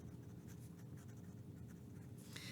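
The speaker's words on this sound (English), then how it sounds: "I'm actually gonna write the steps on a separate sheet of paper because I ran out of room" A pen or pencil scratches out math steps on a sheet of paper in a lesson setting. The soft, close scratching comes in irregular short strokes, and a brighter scrape sounds near the end.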